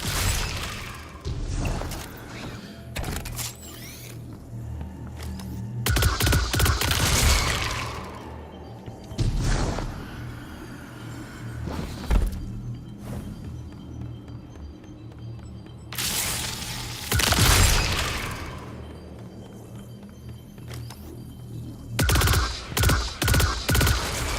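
Gunfire blasts at moths in Destiny 2: The Witch Queen, with several loud, dense bursts of rapid shots and thuds split by quieter gaps, and no talking over them.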